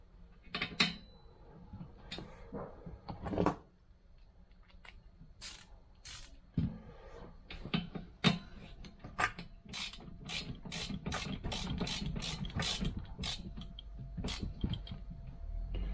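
A power tool whizzes out Torx T40 screws from a front seat frame of a Land Rover Discovery 300 TDI, several short mechanical ratcheting bursts with pauses, ending in a longer continuous whir.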